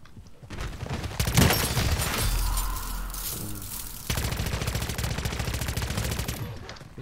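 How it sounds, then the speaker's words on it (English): Rapid, sustained bursts of SMG fire in MW3 Zombies, close and loud, a dense rattling stream of shots with a brief lull in the middle before a second long burst resumes. "It's very fast shooting"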